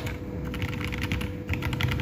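Soft, rapid keystrokes on a KBD67 Lite keyboard with Gazzew Boba LT linear switches, muted and close, forming a continuous quiet patter with no voices.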